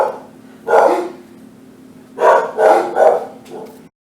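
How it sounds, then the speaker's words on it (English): Several dogs bark at home, stirred up by neighbors having lawn work done outside. A loud burst of barking comes first, then after a pause three or four close, loud barks in quick succession, with a fainter one trailing off. "Oh, excuse my dogs."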